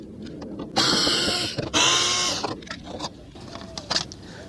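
Removing the bolts from a car's license plate produces bursts of mechanical whirring and ratcheting, two loud sustained runs near the start, then shorter rattles and clicks up close with no talk.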